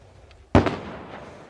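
PFM-1 "Lepestok" anti-personnel mine set off by a thrown stone outdoors, a single sharp blast that bursts suddenly and fades over about a second, heard at a distance.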